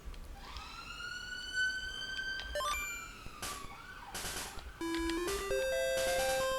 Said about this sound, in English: Sorry with the siren if you can hear that.